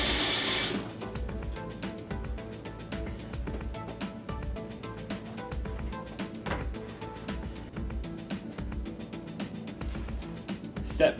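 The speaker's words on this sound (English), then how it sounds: "first thing to do is fill up your tub with water" Tap water runs steadily into a plastic tub for a plant transpiration experiment, a continuous close splashing fill with no talking over it.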